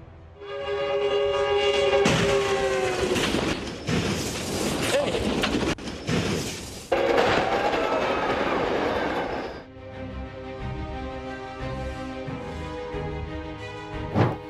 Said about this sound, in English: train slammed into a small plane that crashed on its tracks in Pacoima on Sunday